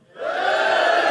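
A live-show audience cheers and shouts for Tommy in a single sustained burst that swells quickly and holds loud and dense to the end, with no clear speech on top.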